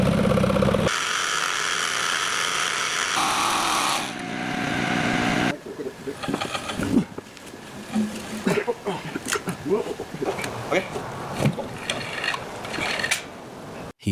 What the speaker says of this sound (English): He is now very skillfully cutting saddle notches or circular grooves at the corners of the wooden logs